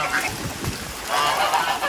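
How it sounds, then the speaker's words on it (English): Ducks being fed on a farm after a hurricane, honking and quacking in a loose, overlapping chorus close by, with a brief murmur of voices. "Let me see a bunch of happy ducks."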